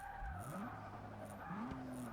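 A race car in Forza Motorsport 6, with the 2017 Ford GT among the featured cars, brakes into a harsh turn, its engine pitch sliding up with a tire squeal; fairly quiet and steady.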